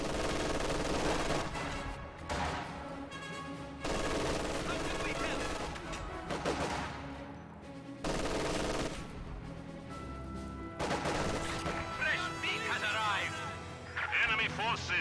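In a World War II strategy video game, a heavy mortar barrage pounds an MG42 position, with repeated booming impacts and bursts of gunfire in irregular clusters over a continuous battle din.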